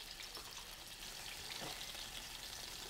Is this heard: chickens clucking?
no